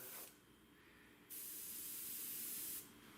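Two bursts of hissing aerosol spray paint over masking tape on a model aircraft, one brief and one longer, close and steady, separated by a short pause of quiet.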